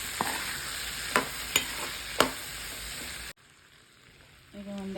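Okra is tipped onto cooked potatoes in a pan and stirred, with a soft sizzle and several distinct scraping knocks for about three seconds before the sound drops abruptly to near quiet.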